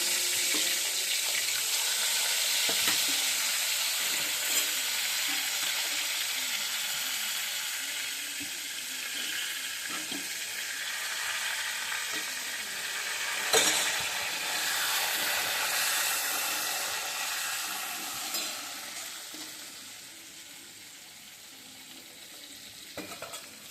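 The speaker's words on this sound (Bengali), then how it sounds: "লবণ আর হলুদ মেখে নিয়েছিলাম এখন ভেজে নিই" Eggs coated with salt and turmeric frying in a pan for egg curry, a loud continuous close sizzle with occasional scrapes and clinks, gradually easing toward the end, no talking.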